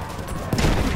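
Gunfire in the Battlefield 1 video game, a dense rattle of shots that swells to a loud burst midway through one short second.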